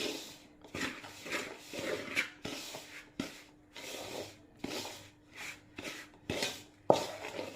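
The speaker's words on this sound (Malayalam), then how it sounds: "അരിപ്പൊടിയും ശർക്കരയും എല്ലാം കൂടെ നന്നായിട്ട് യോജിപ്പിച്ച് ഇളക്കണം" Rice flour and jaggery syrup being stirred together in a bowl for arikunda, a Kerala rice ball sweet, giving repeated soft scraping and knocking strokes in a steady rhythm, close and fairly quiet, with no talking.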